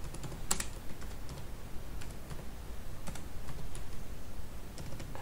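Typing on a computer keyboard while entering text for a LaTeX document: a steady stream of light, close key clicks over several seconds with no talking.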